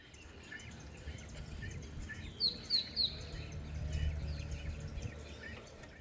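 Birds chirp in short bright bursts at a wetland, a few calls standing out midway over a steady low outdoor rumble.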